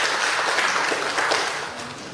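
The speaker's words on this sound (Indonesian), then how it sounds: "Tepuk tangan buat Bapak Oksya." Audience applause at a public speaking training session in Indonesia, a dense steady patter of many hands that fades slightly toward the end.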